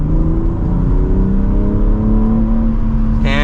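A 2024 BMW M3 accelerates under light throttle in its efficient drive mode, a loud, close engine drone climbing steadily in pitch for about three seconds, with a brief higher whine near the end and no talk.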